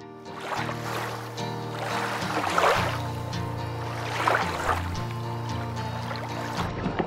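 Water sloshing and trickling around an inflatable kayak on a reservoir as paddles dip in rhythmic strokes, with a low hum underneath, close and steady.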